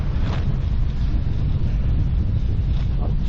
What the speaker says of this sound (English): It's certainly a bit breezy, but to be honest, I find cycling against the wind